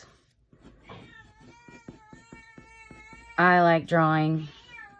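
A cat lets out a loud, drawn-out meow close by, following a person's quiet speech.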